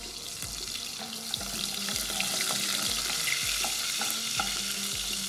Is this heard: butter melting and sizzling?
yes